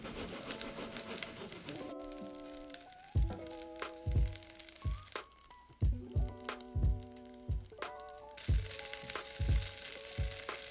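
Tofu pieces fry in a pan with a steady background sizzle, broken by sharp clacks and taps as pieces are placed and moved, while a light melodic background tone plays throughout.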